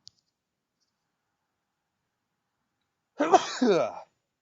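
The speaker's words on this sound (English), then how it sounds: "gotta sneeze 1 second, man" After a long stretch of silence, a single sharp sneeze bursts out close by, followed by a short breathy exhale.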